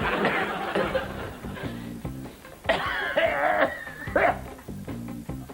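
Repeated coughs and throat-clearing in a cough medicine advertisement, a series of loud, close, harsh bursts alone with no talk.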